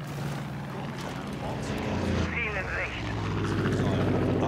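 A helicopter rotor and engine drone in Far Cry 5, a steady mechanical thrum that sits under someone talking throughout.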